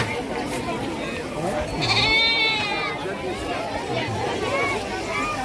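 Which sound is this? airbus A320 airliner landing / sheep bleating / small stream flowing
sheep bleating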